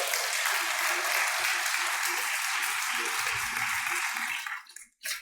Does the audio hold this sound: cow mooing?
no